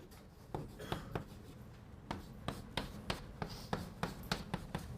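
Chalk tapping and scratching on a blackboard as an integral is written during a calculus lecture, a run of sharp, close strokes and taps in an irregular rhythm, with no talking.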